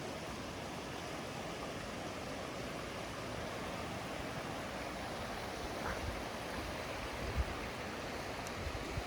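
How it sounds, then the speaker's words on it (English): A river swollen high after heavy rain gives a steady, broad rushing roar from nearby flowing water, even and continuous with no talk. "we've been having a lot of rain lately, so the river is super high."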